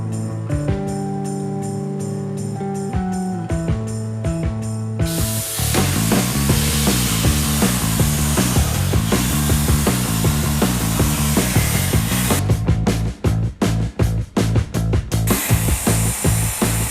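A YesWelder Cut 65 plasma cutter slices through metal with a loud, steady hiss, preceded by a few seconds of quieter machine hum and ending in a rapid series of stuttering bursts.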